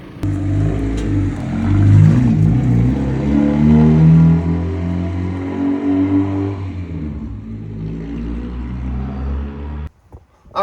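Turbocharged Honda Civic with a custom exhaust system revving hard, a loud rising and falling roar through the pipes for several seconds before it cuts off abruptly.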